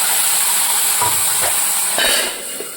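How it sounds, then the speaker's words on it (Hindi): Onion and garlic gravy added to a hot pan with asafoetida and whole spices, a loud, steady, close sizzle with a few small pops, easing slightly at the end. "और अब इसमें डाल देंगे प्याज लहसुन की ग्रेवी।"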